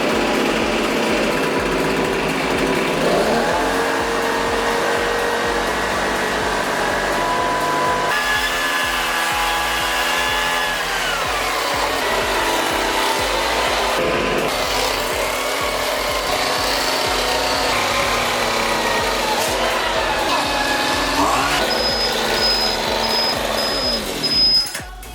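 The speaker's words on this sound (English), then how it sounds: "Even a leaf blower with hurricane force winds still didn't make that thing move." A loud leaf blower aimed at a coin pusher machine whines continuously, its pitch rising and falling as it revs, with rubbing and scraping noises mixed in.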